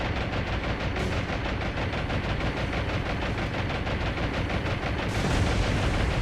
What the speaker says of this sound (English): Torpedoes hit on the Atlanta.